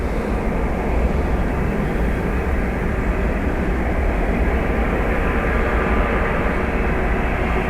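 An airliner's thrust reversers roar after landing at Dublin Airport, a broad, steady, rumbling roar that stays loud and unbroken throughout.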